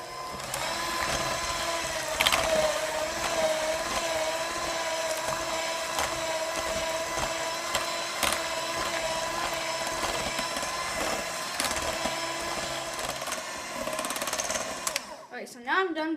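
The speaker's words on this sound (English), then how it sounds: "And blend using a hand mixer," An electric hand mixer whirs steadily and continuously, blending no-bake cheesecake batter with lemon juice, moderately loud, with clinks of the beaters against the bowl.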